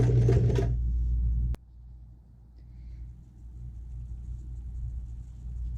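Sewing machine stitching a backstitch on fabric, a short loud burst of rapid stitching that stops abruptly, followed by a quiet low hum.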